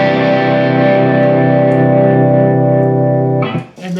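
An electric guitar with heavy distortion rings out a sustained C ninth chord closing the outro of a song, holding loud and steady for over three seconds before being abruptly cut off, followed by a brief noisy scrape.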